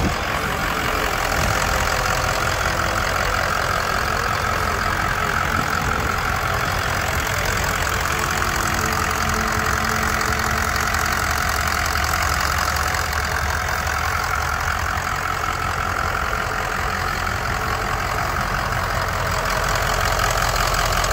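A 2004 Ford F250 pickup's 4WD Powerstroke diesel engine idles steadily close by, a continuous low rumble with a rough, knocking clatter that holds even throughout with no voices.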